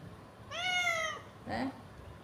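A tomcat gives two loud, harsh meows close by, a long drawn-out yowl followed by a shorter one after a brief pause, with no talk over them.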